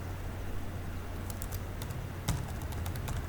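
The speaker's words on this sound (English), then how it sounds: "let me just type up the link" Light clicking of typing on a computer keyboard, faint and scattered over low background hum, in short bursts toward the end.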